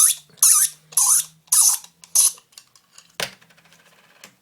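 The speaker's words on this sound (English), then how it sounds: "So all you need to do is to unscrew the end. It's quite tight." The end of a Mira 915B shower temperature cartridge is unscrewed by hand, producing five sharp, evenly spaced plastic ratcheting clicks up close, then a louder snap followed by softer, scattered rattles.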